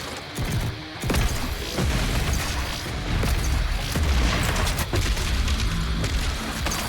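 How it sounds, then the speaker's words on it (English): Heavy explosive-round shotgun blasts and booming impacts fill a loud, dense Doom Eternal battle, with thumping bursts layered over constant rumbling game noise. "Move to an explosive round shotgun."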